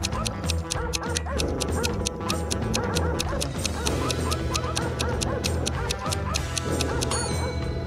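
Several dogs barking and yipping in a dense, continuous chorus, close and loud, with musical tones running underneath.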